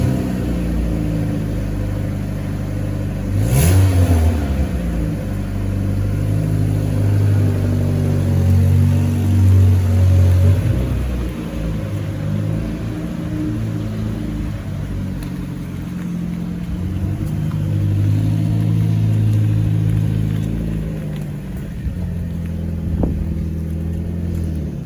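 A 1998 Ford Escort Mk6 Finesse with a 1.6 16v engine pulls away on the road, its steady mid-pitched engine drone rising as it accelerates, heard from inside the car with road rumble and no talking.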